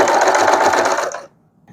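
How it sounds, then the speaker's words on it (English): A sewing machine runs a straight stitch along a folded fabric edge, a loud, fast, even whirring hum for about a second before it slows and stops, followed by a faint click. "now I'm going to use a straight stitch right on the edge just to keep my fold"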